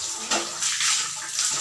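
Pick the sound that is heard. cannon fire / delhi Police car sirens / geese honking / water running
water running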